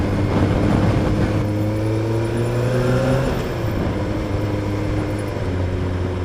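A Honda CBR 1000F motorcycle engine under way, a loud continuous droning hum with rising and shifting pitch as the throttle changes, heard up close with wind noise and no talk.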